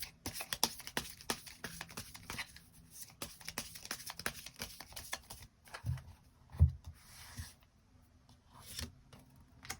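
Tarot cards drawn and handled during a love-fortune reading, with soft paper rustles, shuffling slides and light taps scattered across the span, quiet and close, with a couple of firmer card snaps near the end.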